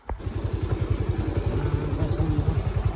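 A Bajaj Avenger motorcycle rides a rough off-road track, its engine chugging in a steady, close, rapid thumping rhythm throughout, with rattling clatter over the bumps.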